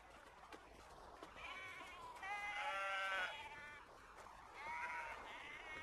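Sheep bleat close by in about three drawn-out, wavering calls, one after another, over a steady background hiss.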